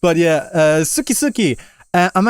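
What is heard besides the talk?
No everyday noises stand out.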